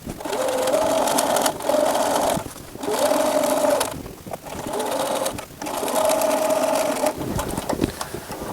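A sewing machine stitches a line across a duffle bag in several close, loud bursts of steady motor whir, separated by short pauses while the fabric is adjusted; no talk.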